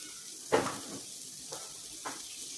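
Bitter gourd frying in a pan as it is stirred, giving one louder sizzling scrape followed by two fainter bursts against a soft steady hiss, close by with no voices.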